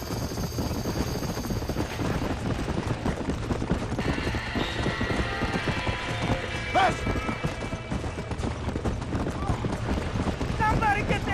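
Horses gallop and whinny while fleeing a burning barn in Red Dead Redemption, with hoofbeats under a dense, steady game soundscape and urgent speech throughout.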